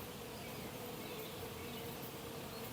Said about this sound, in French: Regardez-moi cette merveilleuse activité d'abeilles, c'est juste magnifique à voir.